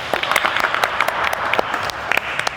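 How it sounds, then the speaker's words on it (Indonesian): A brief burst of audience applause at a studio talk event, many hands clapping close and steady with a few crisp standout claps and no voices. "Kita beri tepuk tangan untuk Cici Jovanda."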